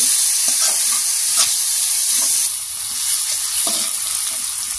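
Noodles with green chillies stir-fry in a hot pan, a loud continuous hiss and sizzle with soft intermittent stirring scrapes, close up and with no voices.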